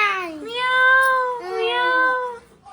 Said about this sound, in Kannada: ಇಲ್ಲಿದೆ ನೋಡು, ದೊಡ್ಡ ಕ್ಯಾಟ್ ಇದು.